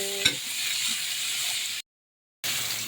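String beans stirred and heated in a pan give a steady close sizzle and rustle, with a brief knock near the start and end and a short silent break midway.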